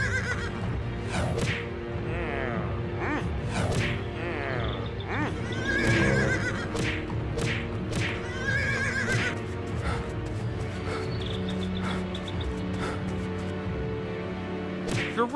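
Horses whinny and neigh repeatedly over a busy background of hoofbeats and thumps, loud and agitated.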